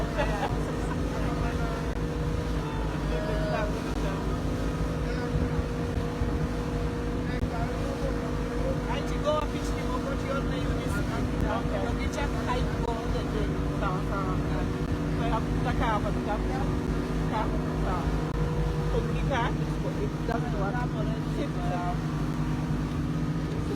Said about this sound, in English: we are on the boat